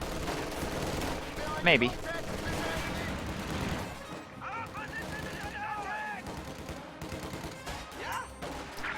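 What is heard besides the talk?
rifle gunfire in a battle, from a video game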